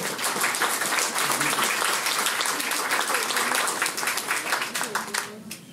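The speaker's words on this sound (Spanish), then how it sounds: "Reitero un aplauso para los que van a comentar" Audience applause fills a bookshop during a book presentation in Lima, a dense, steady clapping from a room of people that holds strong for several seconds before thinning and fading at the end.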